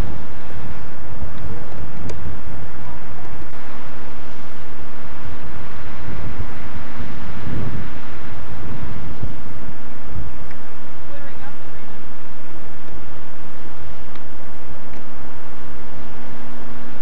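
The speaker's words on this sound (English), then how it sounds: "It is windy out." Wind blows outdoors throughout, a broad rough rumble buffeting the microphone with gusty low bursts, loud and steady, with a faint hum and background voices underneath.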